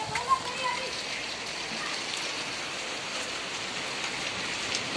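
Heavy rain pours steadily in Bhavnagar, a dense continuous hiss of drops striking rooftops and surfaces close by, with faint voices of people in the background.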